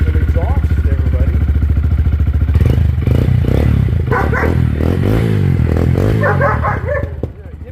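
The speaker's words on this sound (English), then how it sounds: "I did my other Grom with the Yashimura exhaust" Honda Grom motorcycle with a Yoshimura exhaust idling and revving up close, a loud, rough, popping exhaust note that rises and falls in bursts before cutting off near the end.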